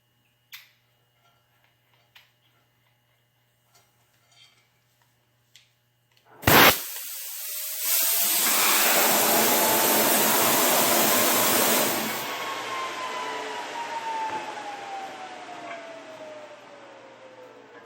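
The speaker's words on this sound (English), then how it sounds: "I'll move the plasma cutter a little slower this time to get a cleaner cut." A plasma cutter burns through steel for a frame that supports a 10 GHz offset dish. A sharp pop and a loud hiss come first, then a steady roaring cut of about five seconds that eases into a quieter hum, with faint ticks before it.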